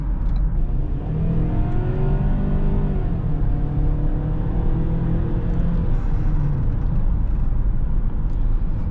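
A 2020 Ford Edge SEL AWD's 2-liter four-cylinder, paired to an 8-speed automatic, accelerates with a steady, loud engine drone that climbs in pitch, heard from inside the cabin over a constant road rumble.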